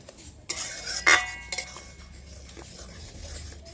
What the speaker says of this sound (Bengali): এবার এগুলোকে একটুখানি নেড়ে নেব।